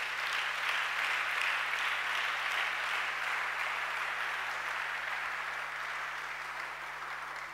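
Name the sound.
congregation applauding the Lord in church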